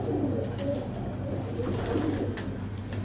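A pigeon coos nearby in soft, low, repeated calls over a steady background hum.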